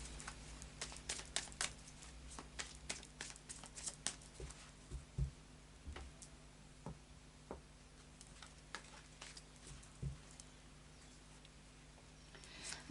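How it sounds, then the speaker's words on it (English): A Tarot of Dreams card deck is shuffled by hand, producing soft, faint, rapid riffling taps and flicks that come in uneven bursts in a quiet room. "So, final shuffle of the Tarot of Dreams."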